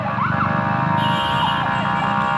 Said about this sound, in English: there's an ambulance here.